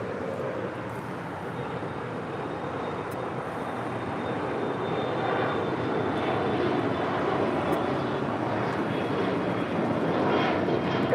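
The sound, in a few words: Alaska SkyWest Embraer E175 LR jet aircraft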